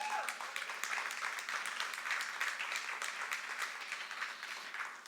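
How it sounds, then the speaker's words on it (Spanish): A church congregation at a Mother's Day worship service applauds, steady crowd clapping with a faint voice underneath, moderately distant and quiet throughout. "Dale un aplauso al Señor."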